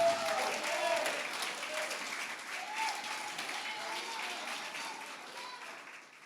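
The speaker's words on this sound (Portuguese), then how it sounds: "aplauda o nome dele o mais alto que você puder" A large audience at a church conference lecture applauds loudly, a sustained wash of many hands clapping that holds steady for several seconds before easing slightly, with some voices in the crowd.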